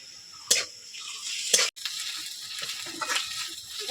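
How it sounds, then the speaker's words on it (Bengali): Fried onion and ginger-garlic paste sizzle in a pan for a Bengali rui fish curry, a soft steady frying hiss with a couple of sharp spatula knocks and light stirring, close by. "পেঁয়াজটা লাল করে ভেজে নিয়েছি তো এবার দেবো আদা রসুন বাটা"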